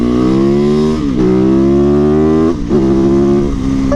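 A supermoto motorcycle engine revs loudly and steadily while being ridden hard, with rising and falling pitch as it drops briefly off throttle twice and pulls again through corners, close and continuous.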